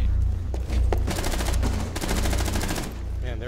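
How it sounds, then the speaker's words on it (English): A rifle fires repeated three-shot bursts in a Rainbow Six Siege match, loud rapid cracks packed closely together in quick volleys. "Three shot burst. It's likely a rifle."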